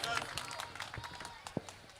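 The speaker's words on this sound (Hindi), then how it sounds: "जोरदार तालियों से इस्तकबाल कीजिए आली मर्तबत" Scattered claps from a mushaira audience welcoming a speaker, heard as irregular, fairly quiet bursts mixed with voices talking over them.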